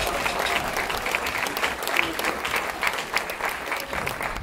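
Steady applause from a crowd at a 2014 Curaçao Christmas music concert, dense clapping that carries on throughout at a fairly loud level, with some voices mixed in.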